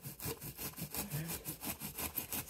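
A blade saws through the top of a styrofoam mannequin head in quick back-and-forth strokes, each one a harsh, squeaky rasp in an even rhythm with no talking.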